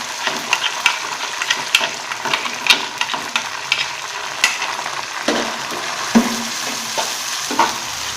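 Chopped ginger and garlic frying in a pan, heard close and fairly loud as a continuous crackling sizzle broken by repeated sharp scrapes and taps of stirring, with no speech.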